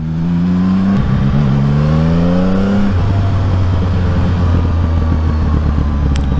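A CF Moto 675 NK motorcycle engine revs loudly and close, rising then dropping to a steady idle-like drone, with small exhaust pops and crackles scattered through.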